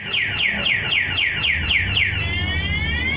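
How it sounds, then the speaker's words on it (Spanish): A panic alarm on an Italika RT 250 motorcycle blares loud and close, sounding seven repeated descending whoops and then switching to a rapid warbling tone. "como ya vieron, le puse la alarma."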